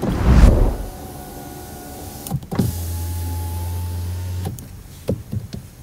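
A car's power window motor whirs for about two seconds as the glass closes, then stops with a soft thud. Faint clicks and cabin sounds come before and after it, and nobody speaks.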